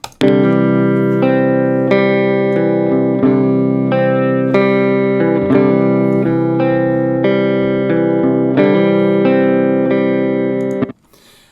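Electric guitar played through an amp simulator with EQ and compression, a steady run of sustained chords with a full, compressed tone, loud and continuous before stopping abruptly.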